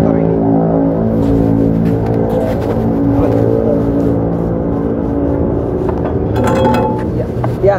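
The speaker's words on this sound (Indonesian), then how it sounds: "Akan dibantu oleh rekan saya Taufik untuk menggeber motor ini." A 2022 Kawasaki KLX140R dirt bike engine revs hard and steadily up close, a loud, continuous buzzing roar with rising and falling throttle surges.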